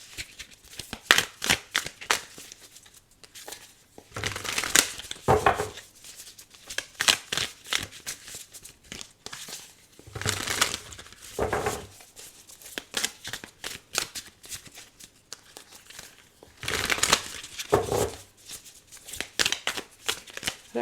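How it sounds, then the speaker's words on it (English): A large tarot deck is shuffled over and over, with crisp riffling bursts and softer handling noises in between, close up and steady throughout. "I don't know how anyone else shuffles this deck."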